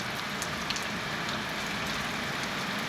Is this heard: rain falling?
yes